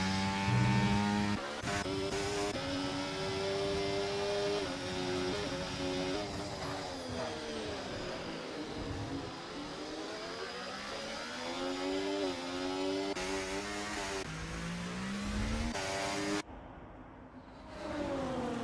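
Formula 1 race cars from a video game racing league at the Chinese Grand Prix circuit in China, engine tone rising and falling through braking and acceleration, with several cars close together, loud and continuous before a short drop near the end.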